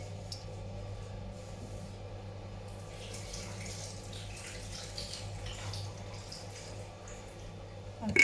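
Fruit being rinsed under running tap water, a faint continuous splash and trickle with soft water hiss rising in the middle, over low steady background hum.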